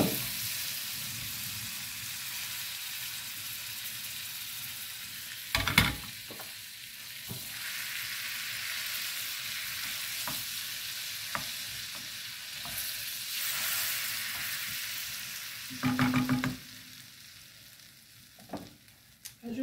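Shrimp and garlic fry in butter with spices in a pan, giving a steady close sizzle with a few louder clatters of stirring and a brief rise in the hiss.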